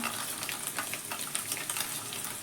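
Paneer pieces frying in hot oil give a dense, even crackling sizzle with small pops and faint spatula touches, close and continuous over a short stretch, no voices.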